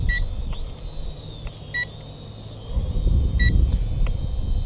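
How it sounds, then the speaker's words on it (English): An Eachine E58 quadcopter drone gives short electronic beeps about four times at irregular intervals, standing out over outdoor wind noise and low rumble. "something's beeping here for some reason"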